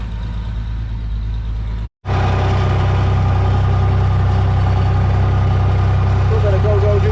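A New Holland tractor engine idles at a farm fuel tank during baling and stacking work, a loud, close, steady diesel rumble that cuts out for a split second near the start, then resumes unchanged.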